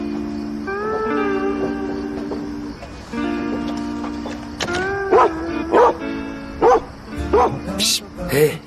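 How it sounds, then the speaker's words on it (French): An angry dog that was shut in barks sharply several times in a row, loud and close, after a stretch of indoor conversation. "Il aboie pas après moi, mais après toi. Il est en colère parce qu'il est resté enfermé."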